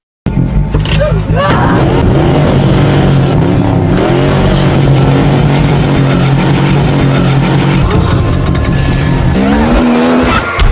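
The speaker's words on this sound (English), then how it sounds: "immediately stepped on the gas" A car engine accelerates hard, roaring loudly with squealing, skidding tires throughout. A voice and other sounds mix in over the sustained engine noise.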